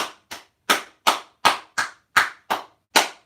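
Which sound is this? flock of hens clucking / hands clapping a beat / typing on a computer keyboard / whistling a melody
hands clapping a beat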